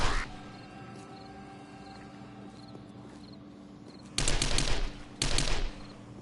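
Gunfire in a video game: after a stretch of quiet ambience, two loud bursts of rapid automatic shots ring out close by, each lasting under a second, with no talking.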